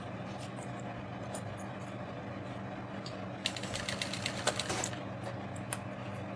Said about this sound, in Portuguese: eu mesma não estou vendo o que eu tô costurando